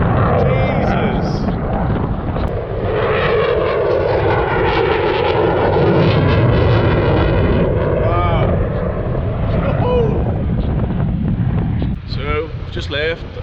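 A military jet, a Typhoon or Falcon, roars past a sailing boat offshore near Cleethorpes. The loud, sweeping engine rush rises and fades over gusty wind noise while people talk throughout.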